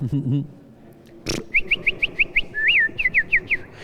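A bird chirps in a quick series of bright, sharp whistled notes close by, with one longer rising-and-falling call in the middle, following a short burst of voices and a thud.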